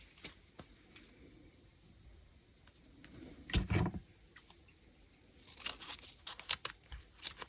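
Scissors cutting paper for junk journal pages, a few quiet, scattered snips followed by a denser cluster of crisp cuts and rustles near the end, close up and alone.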